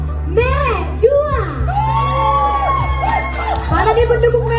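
A crowd at a finalist contest shouts and cheers loudly, children's voices whooping and yelling over a steady low hum from a venue sound system; the noisy cheering continues throughout.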